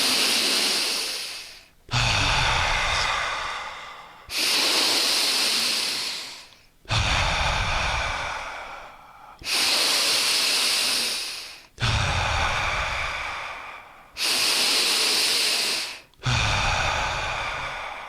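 Deep breathing exercise: slow inhales through the nose alternate with loud, audible exhales, about eight breath cycles in a steady rhythm, close and alone.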